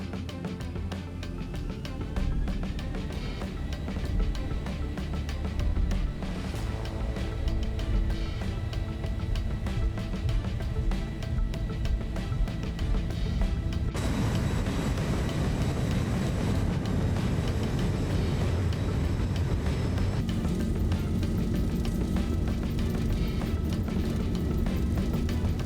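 Steady, loud roar of jet engines at takeoff thrust in the X-Plane 12 flight simulator on departure from Memphis, a continuous broadband rumble and whine that shifts in character partway through, with no talking.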